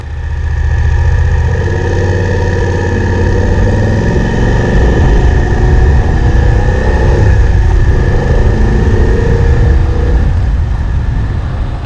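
A 2018 BMW F750GS motorcycle engine idles steadily and loudly up close, a continuous rumbling drone with no voices over it.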